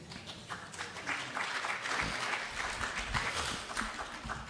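An audience claps after a Buddhist talk in a hall, a soft, fairly distant patter of applause that swells slightly and carries on steadily.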